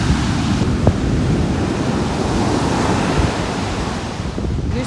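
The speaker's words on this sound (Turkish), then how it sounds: "Dalgalara bakın." Ocean surf rolls onto a beach in Tayrona Park, Colombia, a loud continuous roar of breaking waves mixed with wind buffeting the microphone, with no voices.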